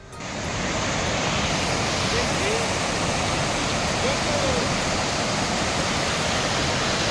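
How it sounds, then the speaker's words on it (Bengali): A waterfall at Ghatsila fills the scene with a loud, steady rushing roar of falling water that is even and unbroken from start to finish, with no other sound standing out. "তো এখানে আমি একটু জলের ন্যাচারাল সাউন্ডটা কেমন লাগছিল, মানে ফলসের ন্যাচারাল সাউন্ডটা"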